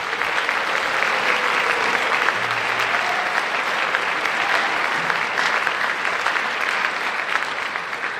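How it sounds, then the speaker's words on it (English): Concert audience at a school wind ensemble's December concert applauding students, a dense, loud, continuous roar of clapping from a large crowd, steady throughout with no speech. "So if we could please give those students a round of applause."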